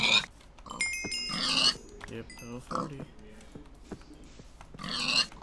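Minecraft pigs grunt in short bursts at several points, mixed with game sound effects, while someone talks over them for most of the clip.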